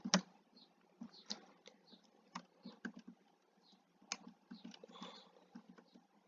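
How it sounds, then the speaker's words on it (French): Faint, irregular clicking taps while chopping wood in the Minecraft video game, quick light hits scattered through the clip with short gaps, no talking heard. "on va aller couper du bois."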